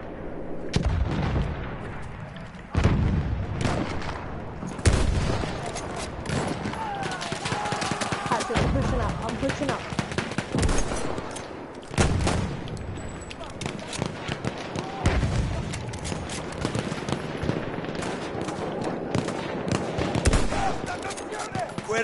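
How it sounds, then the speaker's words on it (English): Battlefield 1 combat with a grenade explosion and steady gunfire, heavy blasts and rapid shots continuing throughout, with players talking over the action. "I throw a grenade, Connor."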